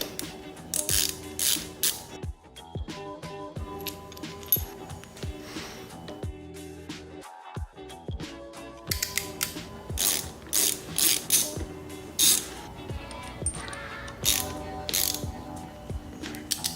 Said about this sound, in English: unscrew the ends right here, pull off these stock ones, get the new ones on there